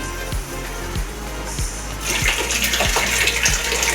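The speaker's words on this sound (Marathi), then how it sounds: "आता पाणी आलं, हे लावलं भरायला" Tap water runs into a container, a steady splashing gush that grows brighter and louder halfway through, with a few soft thumps along the way.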